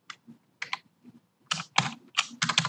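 Computer keyboard keys pressed during video editing, the up and down arrow keys tapped to step between transitions; a run of separate clicks, sparse at first and then quicker and louder, close by with no talking.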